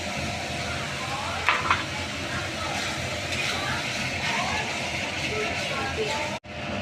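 Spice paste mixed with sour yogurt frying in oil in a pan for cauliflower and potato dalna, giving a continuous close sizzle with occasional stirring scrapes, and a brief cut near the end.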